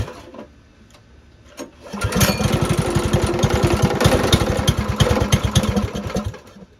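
An original Tony Kart go-kart engine is started with the choke on: a few quiet knocks, then the small engine catches and runs with a loud, rapid, even putter close by before tapering off.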